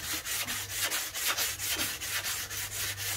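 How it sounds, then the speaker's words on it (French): A damaged car bumper, an R32, is sanded by hand in steady back-and-forth strokes, a close, rhythmic raspy rubbing that repeats evenly with no voices. "Alors, on va falloir poncer tous les défauts."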